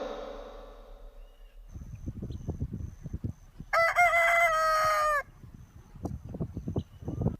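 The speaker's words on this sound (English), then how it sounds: "H for hen." A rooster crows once, loud and clear, partway through a children's alphabet song, cutting across a soft clucking and scratching backdrop before the quieter barnyard sounds return.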